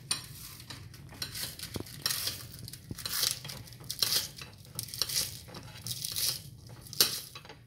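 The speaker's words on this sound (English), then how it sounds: "Go ahead on and slice my get my pickle sliced. Get my lettuce sliced up for you for my sandwich." A knife slicing a pickle and lettuce for a corned beef sandwich, a series of faint, crisp cutting strokes against a board, repeating at a fairly regular pace, close and quiet.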